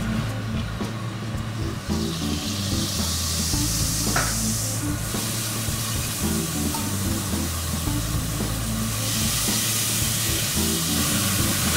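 Steak, first cooked at low temperature to medium rare, sizzles steadily as it is seared in oil in a very hot pan, a loud continuous frying hiss lasting throughout with no talking.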